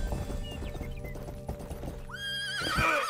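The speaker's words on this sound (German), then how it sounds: "Pferd." A horse in the video game Rustler whinnies loudly with a rising, wavering neigh near the end, after a stretch of hoof clip-clops and game background sounds.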